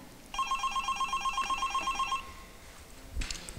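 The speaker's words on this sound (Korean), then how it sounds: "감염관리실에 전화합니다." An outgoing phone call to a hospital infection control office rings out: a rapid, trilling ring tone pulses steadily for about two seconds, then stops, followed by a brief click as the line connects.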